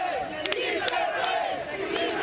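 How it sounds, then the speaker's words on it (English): A migrant crowd on the bank of the Suchiate River chants "Sí se puede" in a rhythmic, repeated call, with several loud voices rising together in regular bursts. "Si se puede, they chant."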